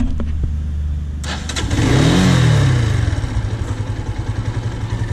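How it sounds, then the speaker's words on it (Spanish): A carbureted Dinamo Speed Fire 200cc motorcycle starts and is revved once, its exhaust swelling to a loud close roar and then settling into a rapid, lumpy idle putter. "Vamos a ver para que escuchen cómo suena ahora sí que lo que les decía de el tipo de escape."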